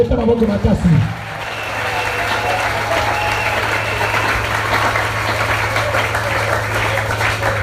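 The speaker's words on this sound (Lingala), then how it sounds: "Acclame très fort." Loud congregation applause at a church visitation seminar, a sustained wash of clapping from a large crowd that swells after a brief spoken exclamation and carries on steadily to the end.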